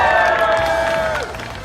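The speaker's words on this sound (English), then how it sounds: "We've had crowds cheering." Crowd noise at a Fall Guys: Ultimate Knockout gaming booth, with a loud, steady wash of cheering voices and applause from many people, holding strong before easing slightly toward the end.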